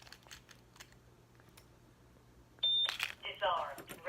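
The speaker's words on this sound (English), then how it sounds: "I gotta turn my alarm off." A home security alarm keypad gives a loud electronic beep and then a run of rapid tones while being disarmed, starting late in the clip after a quiet stretch of faint room noise.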